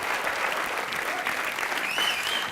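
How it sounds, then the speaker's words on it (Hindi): A television comedy show studio audience applauds steadily, a dense wash of clapping with some crowd noise throughout. "राखी के लिए जोरदार तालियां।"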